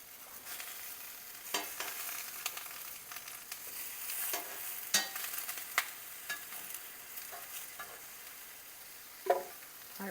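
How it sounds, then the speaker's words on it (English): Onions char in a hot pan for roasted salsa, a steady faint sizzle broken by scattered sharp scrapes and pops from stirring, heard alone with no talk. "my onions are starting to get a little charring on them"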